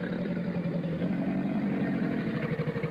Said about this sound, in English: That's the sound of a crocodile.